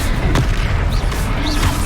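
A Confringo fire spell explodes in the Hogwarts Legacy video game: a single sharp blast bursts out near the start, then fades into a rumbling, crackling game backdrop.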